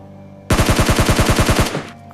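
An automatic weapon fires a rapid burst of about a dozen evenly spaced, punchy shots in PUBG Mobile Lite, loud and close, followed by a short ringing tail.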